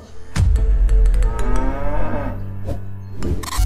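A cow moos loudly and close in one long, drawn-out low call, with a few sharp clicks and knocks around it.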